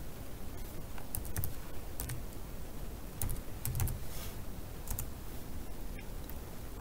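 Steady keyboard typing clicks along at an uneven rhythm, quiet and close, with occasional sharper key taps standing out.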